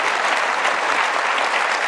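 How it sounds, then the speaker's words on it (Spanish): A church congregation gives a steady, dense round of applause for fathers on Father's Day, loud and continuous throughout. "Un fuerte aplauso a todos los padres esta mañana"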